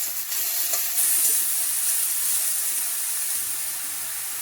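Steak on a grill gives off a steady, loud hiss and sizzle, an unbroken bright wash of sound close by with no talking.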